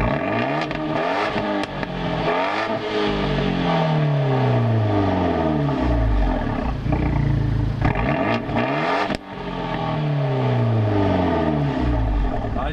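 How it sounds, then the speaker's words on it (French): An Abarth 124 Spider 1.4 MultiAir dual-mode exhaust revs repeatedly, pitch sweeping up and down in loud, rhythmic bursts, with crackling and popping between revs. No talking. "ça libère l'échappement, parce que c'est un échappement de type dual mode"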